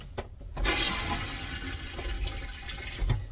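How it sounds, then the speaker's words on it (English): An RV toilet flushing, a sudden rush of water that starts with a surge and then settles into a steady gurgling flow, close by and alone. "You're done, you flush."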